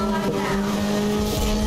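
Racing car engine at full throttle in the Grid 2019 video game, a loud steady drone with a strong constant pitch and tire noise, sustained without a break.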